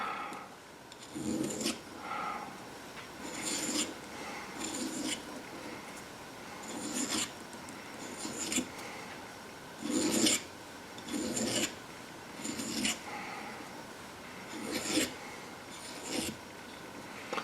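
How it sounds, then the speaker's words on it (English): Rhythmic rasping strokes of a metal file on a workpiece, steady back-and-forth passes at close range with brief pauses between them. "I'm going to just be doing a little bit of refining of my shape with that file"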